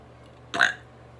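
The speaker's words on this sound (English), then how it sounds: "I've learned how to burp like on command" A single short burp produced on command, a brief loud belch about half a second long standing alone against quiet room hiss.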